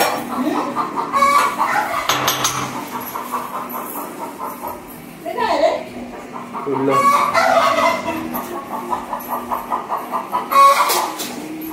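A hen with a cold clucks in repeated bursts close by, with other fowl calling intermittently between short pauses; a faint voice may be mixed in.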